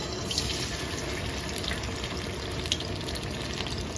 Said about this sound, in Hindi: ऑयल गर्म हो चुका है, इसमें डालते हैं हम फिश।